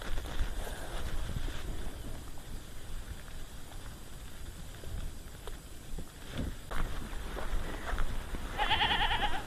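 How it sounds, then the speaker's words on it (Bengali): Sheep kept by villagers in harvested paddy fields near Patibunia sea beach in Bengal bleat, with a clear close call near the end over a steady wind-like outdoor hiss and faint scattered sounds. "এই ভেড়াগুলো"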